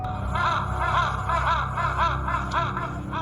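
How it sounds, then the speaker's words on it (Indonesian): Black crows caw back and forth while circling over a village, a steady run of repeated harsh calls at moderate distance over a low rumbling background. "Suara burung gagak hitam bersaut-sautan terbang mengelilingi desa."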